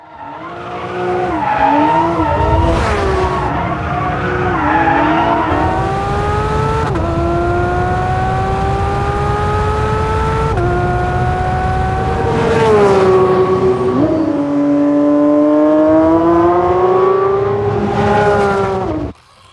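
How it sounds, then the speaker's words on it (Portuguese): A new Porsche 911 GT3 with a naturally aspirated engine screams loudly through repeated high revs, its pitch climbing and falling between gears, with tire squeal over about twenty seconds of close, sustained engine noise. "este é o novo Porsche 911 GT3. Vão por mim e coloquem o volume no máximo"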